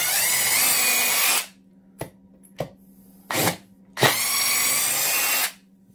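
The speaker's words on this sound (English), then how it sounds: "And now you're driving deck screws pretty fast" Close bursts from a DeWalt impact wrench fitted with a 1/2-inch drive to 1/4-inch hex adapter, driving deck screws into wood: two long loud hammering runs, with short blips in between, over a low steady hum.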